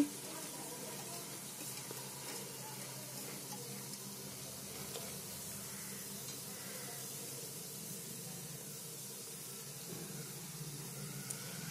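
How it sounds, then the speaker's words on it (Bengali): Marinated chicken and chopped onion frying in a pan, a steady soft sizzle and hiss running evenly throughout, close and fairly quiet, with no talking. "চিকেনটাকে একটু ভেজে নিচ্ছি। এবারে আমি পেঁয়াজ কুচিটা দিয়ে দিচ্ছি।"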